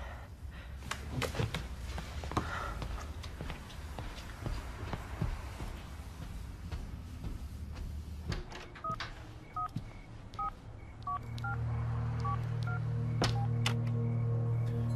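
A telephone is dialed in a dramatic film, with a sequence of short DTMF key tones following some quiet handling noise, and a steady line tone droning beneath the final seconds.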